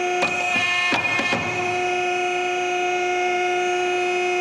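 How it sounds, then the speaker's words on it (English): A pipe bending machine runs its automatic cycle with no part loaded, giving a few sharp mechanical clunks at the start followed by a steady electric hum and whine, with no talking. "Now I'm going to do it on the automatic cycle without the part in there"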